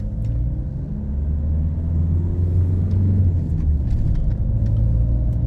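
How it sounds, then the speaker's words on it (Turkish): A long car turns in front on an Istanbul street, its low engine rumble and road noise steady and close throughout, with faint higher clicks and traffic sounds above. "Arabaya müsaade edelim dönsün. Bayağı uzun bir araba."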